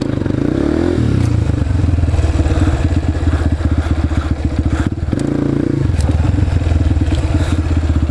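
A dirt bike engine roars loudly and close up during a wheelie, with a throbbing pulse, rising and falling revs and clattering, scraping chassis noise.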